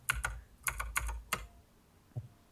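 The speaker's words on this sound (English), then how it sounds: "Okay, Sam, can you mute your mic because we can hear you typing?" Typing on a computer keyboard picked up by an open microphone during an online Cyberpunk 2020 tabletop roleplaying session: quick bursts of clacking keystrokes, fairly close and clear, then a pause with one last soft tap.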